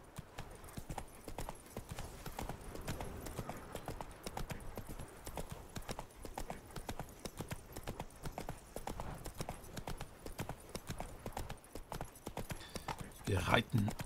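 Horse hooves clip-clop in a steady riding rhythm across a game landscape in The Witcher 3, moderately close and continuous, with a soft ambient bed and a brief louder rustle near the end; no talking is heard.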